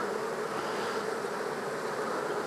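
Honeybees hum around an open hive during a beekeeping inspection, a continuous close, steady buzzing drone with no pauses and no talk.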